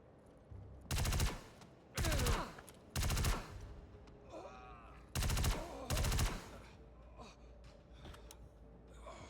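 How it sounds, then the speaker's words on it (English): Machine gun fire in the video game Star Citizen: five loud, close bursts of rapid automatic shots, each about half a second long, separated by short pauses, with faint breathing and sounds between them. "let's go over here and just machine gun these guys down"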